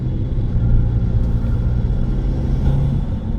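Turbo flutter from an Audi 1.8 TFSI engine under light throttle while driving, a steady low engine rumble throughout with faint fluttering texture, no talking.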